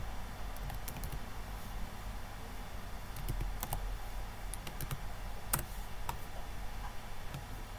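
Someone types on a computer keyboard, a quiet close patter of irregular key clicks with short pauses, and no talk.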